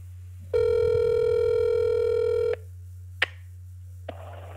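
A telephone line during a cold call: a steady, loud dial tone holds for about two seconds, then stops, followed by two short, sharp clicks over a constant low electrical hum.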